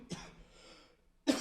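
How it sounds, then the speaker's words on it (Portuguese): A single short throat-clearing cough sounds close by, followed by a brief lull and then a second sharp cough at the end. "Ó, tosse."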